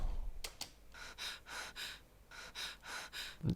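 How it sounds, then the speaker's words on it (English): A breathing sample processed with saturation for an electronic bass preset: rhythmic, evenly spaced breaths with a gritty, airy texture, loud and close, preceded by two quick sharp inhales and ending on a low snort-like thump. "just this rhythmical breathing, so with the effect on"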